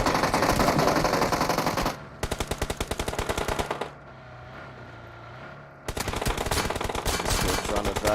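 Battle royale video game gunfire, with loud rapid automatic bursts of dense, rhythmic shots that briefly pause, then start again and keep hammering close by.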